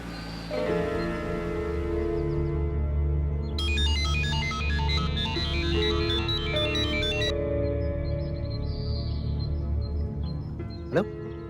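A phone ringtone plays a steady repeating electronic melody for several seconds, loud and close, over a continuous background music bed, before the call is picked up.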